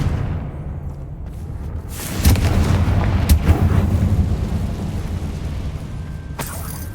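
A Confringo explosive spell in the Hogwarts Legacy video game goes off with a sudden loud boom, then a long, rumbling blast that fades away over several seconds.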